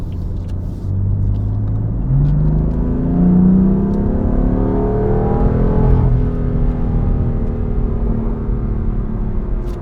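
A 2016 BMW M3 sports sedan pulls away and accelerates on a road, its engine rising through the revs with an audible upshift partway through, loud and close with no talk.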